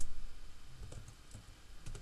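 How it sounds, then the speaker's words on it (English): Soft keystrokes on a computer keyboard while a math paper's working is entered, a few scattered clicks over low background hum, with no one talking. "I'm just typing it out so that it's easier to understand"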